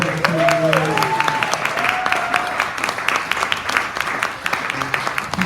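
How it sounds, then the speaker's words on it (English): A comedy night audience gives a round of applause, scattered clapping and cheers with voices talking through it, moderately loud and close. "can y'all give her a round of applause real quick?"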